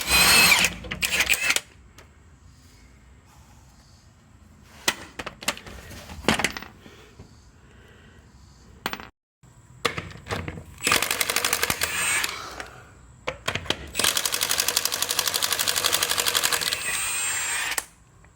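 A power tool removes the wheels from a truck during rear differential work, firing in several loud, rattling bursts of varying length, separated by quieter gaps and handling noise.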